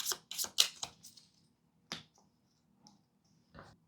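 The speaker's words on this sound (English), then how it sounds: "Shuffle the remaining cards to form a draw deck for the bot player." A deck of game cards for a board game is shuffled up close, a quick riffle of crisp flutters followed by a few sparse light card taps and slides in a quiet room.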